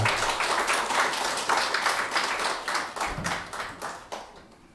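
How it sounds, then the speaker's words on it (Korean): A Korean church congregation claps during Sunday worship, a loud, rhythmic round of mostly unison hand claps with clearly spaced beats that fade slightly near the end. "우리 하나님께 감사와 영광의 박수 올려드리겠습니다."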